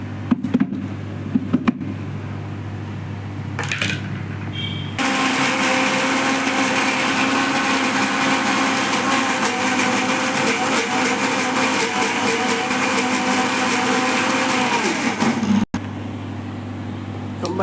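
A mixer grinder grinds kavuni rice and lentils with salt, a loud steady motor whine with coarse churning running continuously for about ten seconds, then stopping; quieter kitchen handling noise before and after.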